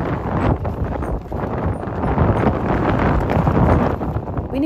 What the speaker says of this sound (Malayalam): അപ്പോൾ പുറത്ത് നല്ല കാറ്റാണ്.